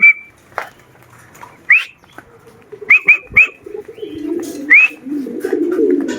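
Racing pigeons in a loft at feeding time, sharp whistles and cooing calls in quick bursts close by, followed by a rising rustle of wings and shuffling birds.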